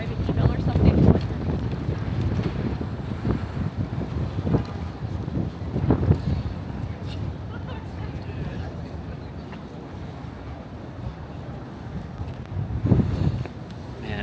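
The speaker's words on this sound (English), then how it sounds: "Man, it's so windy." Strong gusting wind buffets the microphone on a Manhattan street corner at East 20th Street and Broadway before a snowstorm, a steady low roar with louder surges throughout, and a voice faintly audible.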